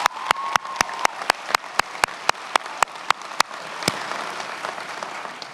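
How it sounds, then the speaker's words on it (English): Audience applause at a graduation ceremony, with a few distinct claps standing out near the start before blending into a softer, scattered ovation. "And now we can all applaud."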